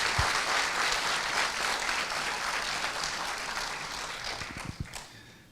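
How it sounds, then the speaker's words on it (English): Audience applause for the organisers at an impact and failure conference, a dense steady wash of many hands clapping that slowly tapers toward the end, with no talking over it. "we should give SELCO and the team a big applause for what they've done."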